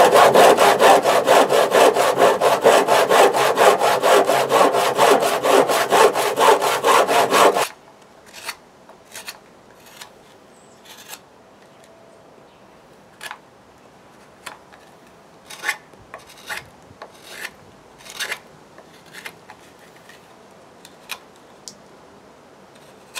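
A wooden axe mask being shaped, first a loud, steady rhythmic rasping for several seconds, then quiet with scattered sharp scrapes and taps spread out over the rest.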